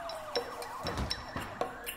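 Ambulance siren in the city-building game DesertCity, a synthetic wailing tone with repeated sharp chirps and sweeping pitch over about two seconds, moderately loud with no talking.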